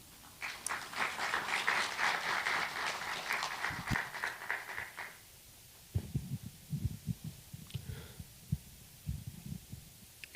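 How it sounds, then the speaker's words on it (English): Audience applauding a keynote speaker at an ocean law conference, a dense steady clapping for about five seconds that then drops to softer, scattered thumps and low rustling. "Please welcome him with a big round of applause."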